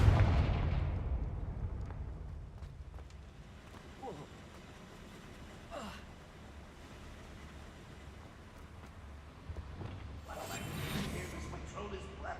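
Confringo fire-blast spell cast in the video game Hogwarts Legacy: a heavy booming burst opens the clip, followed by further crackling blasts and rumbling impacts over a low, steady game background.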